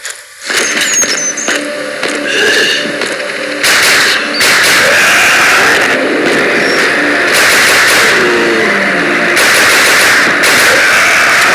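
Gunfire in the zombie shooter game Walking Zombie 2, loud bursts of rapid shots over a dense, noisy game soundtrack, with sharp onsets around the start and mid-clip.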